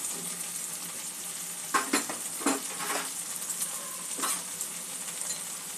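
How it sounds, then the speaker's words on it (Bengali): Chopped green chilies drop into softened onions frying in a pan, giving a steady close sizzle with a few brief clattering stirs and scrapes of a spoon. "3-4টে কাঁচা লঙ্কা কুচিয়ে নিয়েছি, কাঁচা লঙ্কাটা দিয়ে দেবো।"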